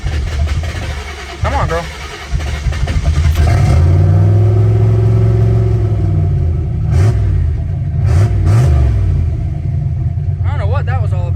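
A car engine cranks and catches, then revs and settles into a loud rumble with rising and falling pitch; a voice speaks briefly over the start.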